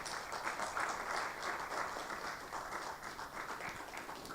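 Soft, steady applause from an audience at a handover ceremony between a radio station and a newspaper, heard faint and distant as a continuous patter of many hands.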